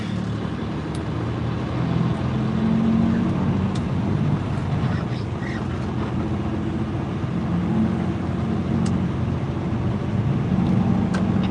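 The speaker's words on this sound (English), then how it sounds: "This guy driving this International Lone Star." An International LoneStar truck rolls past with a steady, loud low engine rumble and road noise throughout, its drone holding even from start to finish.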